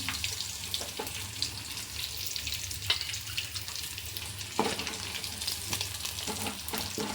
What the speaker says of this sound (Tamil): இப்படி எல்லாத்தையும் நம்ம பொறிச்சு எடுத்துக்கணும்